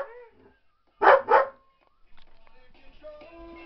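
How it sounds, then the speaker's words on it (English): An Alaskan Malamute barks twice in quick succession at its own reflection in a mirror, the barks loud and close in a quiet indoor room, followed by faint soft whimpering and rustling. "What are you barking at?"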